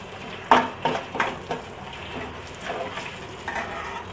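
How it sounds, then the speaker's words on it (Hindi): A spoon stirring spiced leftover rice with red chili powder and asafoetida in a pan, a few soft scrapes and taps near the start over a low frying hiss, then quieter stirring. "अब इसे चम्मच से अच्छे से चला लें।"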